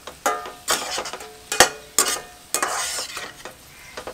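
Tomato sautéed with crushed ginger and garlic in a pan: close, brisk scraping stir strokes repeat roughly every half second over a light sizzle.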